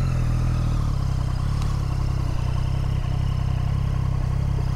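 Triumph 660 motorcycle engine running low and steady during a slow U-turn, a loud close rumble with a slight dip and pickup in the throb, no speech over it.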